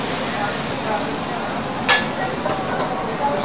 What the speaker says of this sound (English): We're gonna put the 90 ml of vegetable sauce.